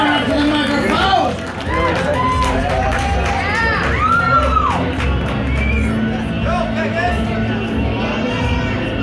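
Audience at a team poetry slam finals cheers, whoops and shouts loudly as the applause keeps going, with rising excited calls over a continuous roar of crowd noise and clapping.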